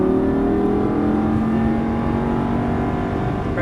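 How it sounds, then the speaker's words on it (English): Lamborghini Gallardo LP550-2 engine under hard throttle on track, accelerating with a loud, steady, close-up tone that climbs in pitch from start to finish. "hard on that throttle now"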